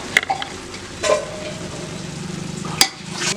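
Half-cooked rice being scooped and stirred in a cooking pot while making fried fish biryani, giving soft scraping and stirring sounds with a few sharper utensil clinks against the pot, close up and alone.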